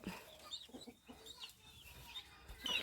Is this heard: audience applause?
no